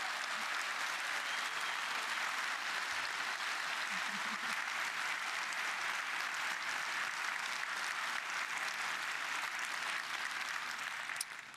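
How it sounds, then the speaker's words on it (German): A large audience at a German talk event breaks into sustained applause for Gulp AI, a dense, steady wash of clapping that holds at even loudness for about eleven seconds before ending abruptly. "Ein großer Applaus für Gulp AI."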